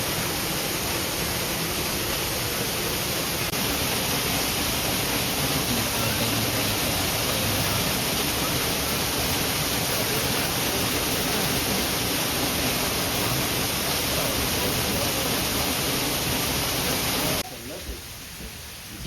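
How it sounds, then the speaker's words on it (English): A waterfall at Audubon Zoo gives off a loud, steady rushing roar heard from close by. It runs unbroken and then drops off abruptly near the end. "Oh look, another waterfall."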